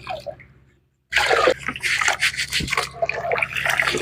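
Water pours and splashes into a container of tiny, sandy millet grains being washed, a steady gushing stream after a brief pause, with sloshing and dripping throughout.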